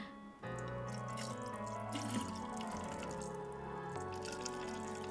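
Wine poured from a bottle into a non-glass container in a horror dating game demo: a steady liquid stream runs for several seconds, fairly close, with no voices.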